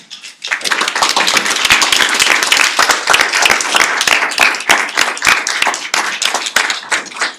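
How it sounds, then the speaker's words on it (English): Crowd at a New York City Housing Authority board meeting breaking into sustained applause, many hands clapping steadily for several seconds, loud and close, with no talk over it. "I was going to tell everybody to clap for you"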